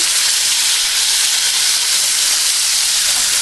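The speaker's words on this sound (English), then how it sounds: "Now we're going to stand it up on the side and get some brown on there." A pot roast sears and browns in a hot pan with an intense, steady sizzle, a bright hissing spray of sound close by that stays loud and even throughout, with no talking.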